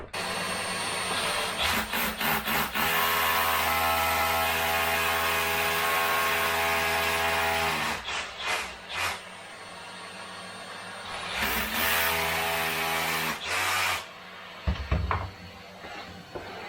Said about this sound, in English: And we'll drill him out with a little drill,